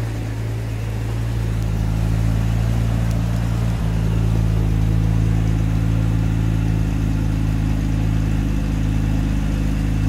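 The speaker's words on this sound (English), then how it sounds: "she is ticking over about 1200 revs because the choker's on" A Jaguar 4.2 engine idles cold with the choke on at about 1200 rpm, a steady fast, even tickover, a close, loud, smooth mechanical hum that holds the same pitch throughout.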